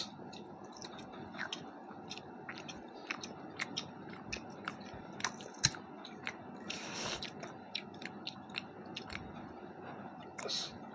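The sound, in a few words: chewing and biting onion while eating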